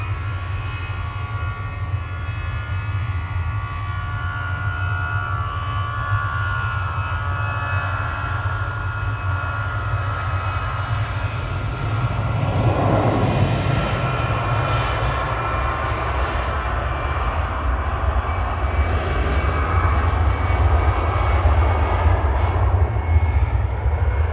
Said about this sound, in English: I think we just had a 767 go over the top as well, actually.